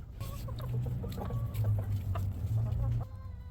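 Several chickens cluck and murmur continuously, close by, with occasional sharper calls, before the sound drops to quieter background.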